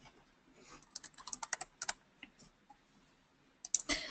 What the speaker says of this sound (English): So we just start typing in here